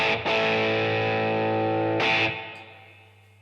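Electric guitar played through a Klon boost pedal on a live rig gives a driven, sustained chord that holds, is struck again midway, then fades out alone.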